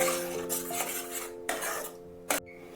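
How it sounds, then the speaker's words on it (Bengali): Spices stir-fried in oil in a pan with a metal spatula, sharp clanks and scrapes against the pan over a low sizzle, with a steady hum beneath. "তেলের মধ্যে মশলাটাকে বেশ কিছুক্ষণ 10 মিনিট মতো একটু কষিয়ে নেবে"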